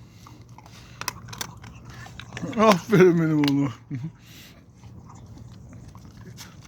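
A restaurant's dog eats its food, with soft crunching and biting sounds. A voice praises it partway through.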